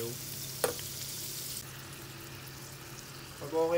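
Garlic sautéing over low heat in butter in a pan, a soft steady sizzle with a brief stir clatter near the start and light stirring noise toward the end.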